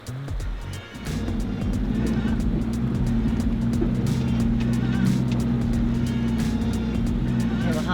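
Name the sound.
Toyota Hilux 4x4 driving through a river crossing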